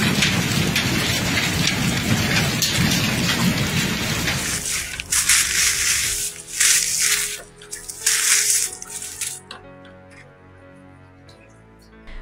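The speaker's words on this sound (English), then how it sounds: "This severe weather brought not only thunderstorms but also hail, with stones measuring between 2 and 5 centimeters." A hail storm with rain and thunder in Italy: loud, dense, steady pelting and drumming for several seconds, then intermittent bursts of rattling impacts over a low rumble, fading to quieter ambience.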